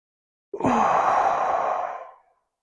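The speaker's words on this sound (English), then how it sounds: "take a deep and cleansing breath in through our nose" A single deep cleansing breath during an EFT tapping exercise, a long audible exhale through the mouth lasting under two seconds, close and alone.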